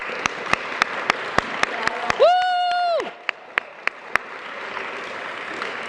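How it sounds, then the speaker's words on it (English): Scattered, evenly spaced sharp claps ring out in a school assembly room, loud and close, with a sustained tonal squeal cutting through in the middle for about a second. "Give her a big round of applause."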